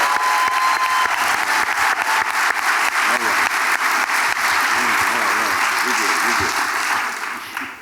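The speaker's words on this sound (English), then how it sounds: "So let's give him a round of applause." A theatre audience at the Lincoln Theatre in Columbus, Ohio applauds a guest at a film screening panel, dense sustained clapping that stays loud and full before tapering at the end, with voices faintly mixed in.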